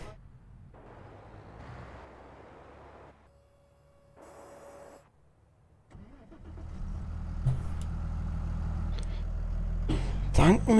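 Tractor engine in the Farming Simulator 22 game cranks over and catches partway through, then runs loud and steady as the tractor drives off, with someone talking over quieter background sounds earlier on.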